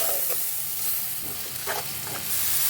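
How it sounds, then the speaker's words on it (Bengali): Spices for a puti fish and gati kochu dish sauté in oil in a pan, giving a continuous close hiss and sizzle with a few soft stirring sounds. "দিয়ে সমস্ত মশলাগুলো আমি একটু ভালো করে কষিয়ে নেব।"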